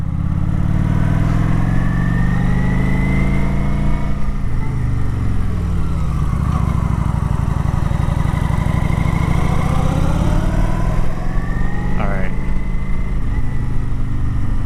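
A 2012 Kawasaki motorcycle during cornering practice on a two-way street, its engine droning loudly and steadily throughout with rising and falling revs as the rider slows and accelerates.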